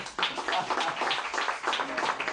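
Applause from a lecture audience, a steady dense patter of many hands clapping that carries through the whole stretch at a moderate, even level.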